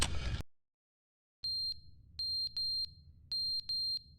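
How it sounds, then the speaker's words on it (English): Fire alarm in The Stanley Parable video game ringing in short, shrill electronic bursts, five pulses in uneven pairs after a brief loud noise and a moment of silence. "The fire alarm?"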